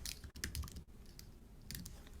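Someone types on a computer keyboard in short bursts of soft, quick key clicks. The sound is close but quiet, with a brief pause between runs and no talking.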